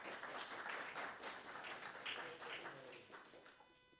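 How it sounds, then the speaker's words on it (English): A meeting audience gives a round of applause, soft and fairly distant, the dense clapping holding for a few seconds before thinning out and fading. "A round of applause. That'd be great."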